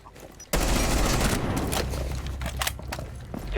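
Loud bursts of gunfire erupt suddenly in Rainbow Six, a close, dense fusillade of rapid shots that continues for several seconds with a few trailing cracks.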